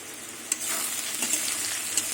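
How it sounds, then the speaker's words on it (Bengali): Pumpkin and potato pieces fry in a pan with a constant, close crackling sizzle, broken by occasional clicks from stirring. "কুমড়ো আলু সব ভাজা হয়ে গেছে"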